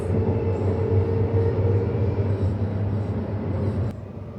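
A Perth suburban electric train on the Joondalup Line slows on its approach to the Joondalup terminus at night, a steady close rumble with a whining motor hum that drops off sharply near the end, no voices.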